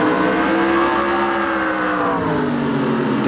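Race cars in a Pokemon NASCAR video game at Suzuka drone loudly with steady high engine whine and shifting pitch as they battle bumper to bumper, with no talk.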